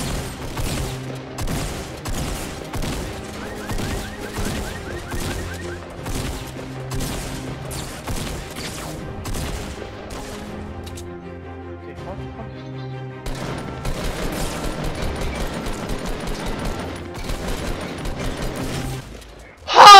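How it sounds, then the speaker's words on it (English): Rapid gunfire in Fortnite, with a shotgun among the weapons, as a dense run of sharp shots repeating over game music, quieter midway, then a loud burst at the end. "I actually got like 6 shots from the shotgun on him"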